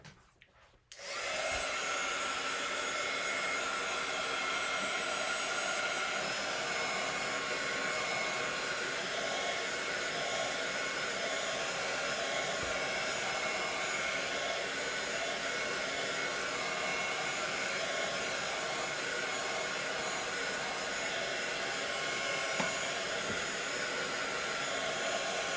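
A hair dryer blows continuously on a mixed media paper project, a loud, steady close-up whoosh that starts after a brief click and runs without a break or any speech.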